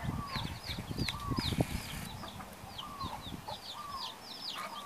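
Jungle fowl cluck and chirp in quick repeated notes over a steady outdoor din in Hawaii, with soft rustling and scratching close by.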